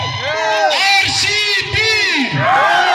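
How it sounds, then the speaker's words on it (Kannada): Crowd at a kabaddi semi-final match whooping and yelling in support of the RCB team, loud overlapping shouts and cheers rising in bursts close to the listener. "ನಮ್ಮ ಆರ್ಸಿಬಿ ತಂಡಕ್ಕೆ ಜೈಕಾರ ಕೊಡ ರೆಡಿನಾ"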